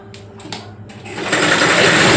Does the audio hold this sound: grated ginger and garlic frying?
no